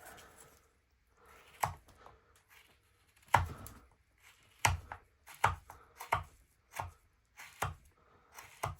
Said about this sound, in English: when I make these big cuts, I always use my big knife